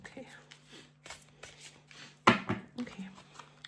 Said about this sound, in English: Give it a quick shuffle.